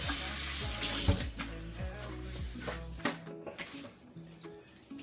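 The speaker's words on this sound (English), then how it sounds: "I'm going to give it a quick rinse" Tap water runs into a sink as a vegetable is rinsed under it, a soft steady splash for about three seconds that then cuts off, followed by quiet handling and dripping.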